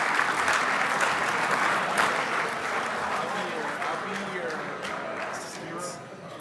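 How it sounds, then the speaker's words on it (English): A banquet crowd applauds young RC car racers at the 1/10 IFMAR World Championships 2023 awards at Hobby Action RC Raceway. The clapping is strong at first and gradually thins out, with voices murmuring underneath. "another big round of applause for those youngsters coming out to their 2023 IFMAR World"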